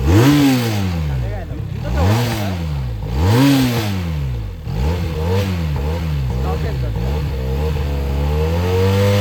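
A motorcycle engine with no exhaust fitted is revved hard several times in a row, each rev rising and falling, before it settles into rougher, uneven revving up close.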